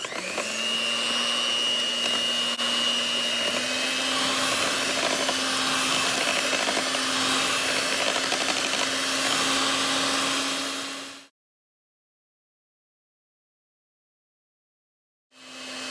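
An electric mixer whirs steadily through keto Japanese cheesecake batter, a loud, even motorized hum that holds for about eleven seconds. It stops abruptly, there is silence, and then it starts again briefly.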